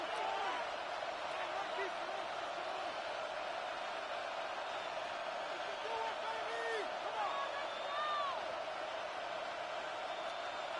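Crowd noise in a Madden football video game, a steady loud stadium roar that swells through the whole stretch during a third-and-long, with a commentator's voice heard over it.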